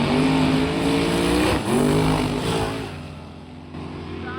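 A big drag racing car thunders down the strip on its pass at a summer drag event, a loud, continuous engine roar that surges, dips briefly as the throttle is pedaled, then fades as it pulls away.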